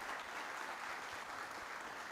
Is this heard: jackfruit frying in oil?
no